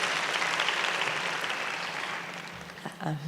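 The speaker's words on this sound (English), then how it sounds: "I think you should clap to yourself." Graduates at a tech skills program graduation ceremony applaud in a steady, dense wash of clapping that tapers toward the end.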